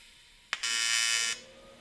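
Close TIG arc on 6061 aluminum at an inside corner: a sharp start click, then a steady bright buzzing hiss lasting under a second before cutting off, over quiet room hum.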